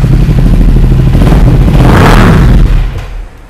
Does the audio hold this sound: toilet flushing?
no